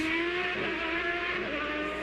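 IndyCar-era Champ Car, Sébastien Bourdais' Newman Haas Lanigan McDonald's car number 1, running in 2007: a steady high-pitched engine whine holds at moderate distance for about two seconds, with no voices.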